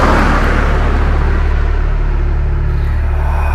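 A taxi accelerating at night as the gas is pressed, a loud, close, continuous engine rumble that holds steady and slightly builds throughout, with no other sound over it.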